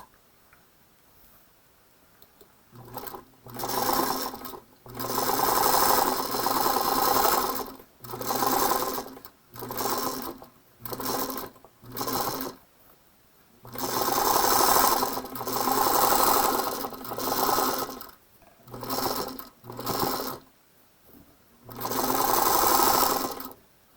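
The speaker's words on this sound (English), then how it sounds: "Let's sew our final seams." A sewing machine stitching final seams runs in repeated bursts of steady mechanical whirring and ticking, about a dozen runs of varying length separated by short pauses, close and clear.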